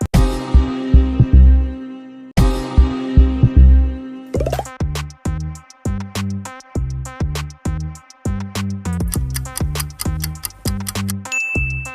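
Renault car logo animation jingle: a run of bright, ringing tonal hits and throbbing low pulses in a steady, repeating rhythm, loud and clean with no talking.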